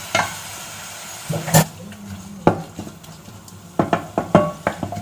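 Onions being stirred in a pan for a sardine curry, with intermittent clinks and scrapes of a spoon against the pan over a soft, steady sizzle, mostly close and without any talking.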